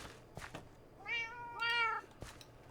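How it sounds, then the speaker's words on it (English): A cat in the video game Minecraft meowing twice in quick succession, clear and close against a quiet background with a few soft clicks around it. "Why did you put cats in here?"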